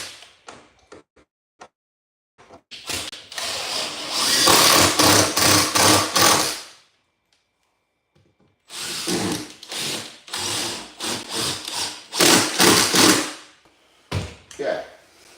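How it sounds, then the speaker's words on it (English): A power drill drives screws into wood during carpentry repairs, with bursts of loud whirring and ratcheting separated by pauses, the second screw running after a brief silence. "Alright, couple screws, drive up the MacGyver."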